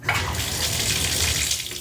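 Water runs from a Moen Posi-temp shower faucet in a steady, hissing stream, close and continuous throughout.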